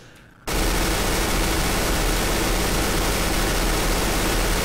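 After a brief quiet moment, a Negev machine gun in the video game CS:GO opens up and fires a continuous, dense, loud stream of shots without pause for the rest of the stretch.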